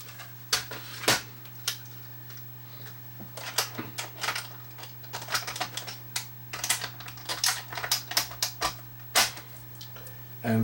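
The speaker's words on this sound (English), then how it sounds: "The cassette adapter now pulls the tape out of the cassette, and now it's ready to go." A VHS-C cassette adapter being closed and its mechanism threading the tape, heard as a quick series of close mechanical clicks and plastic ticks with short pauses, over a steady low electrical hum.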